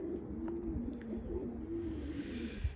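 Pigeons coo softly in a coop on a warm, sunny day, low repeated rolling calls overlapping in a quiet space with faint chirps above.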